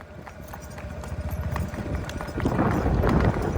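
Rhythmic hoofbeats of a cantering Kathiawari mare drum steadily and close by, growing louder as it nears.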